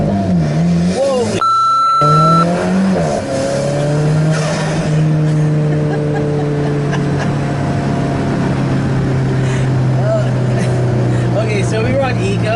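An Alfa Romeo 4C accelerating hard in sport mode, engine revving loudly with rising pitch sweeps and a brief gear-change drop, then a sustained high roar; a person talks over it.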